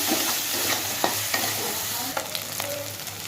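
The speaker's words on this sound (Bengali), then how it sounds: "আলুটাকেও ভেজে নিচ্ছি পেঁয়াজের সাথে" Potatoes frying with onion paste in hot oil give a steady close sizzle, broken by several short scraping stirs of a spatula against the pan and no talking.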